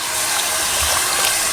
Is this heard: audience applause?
no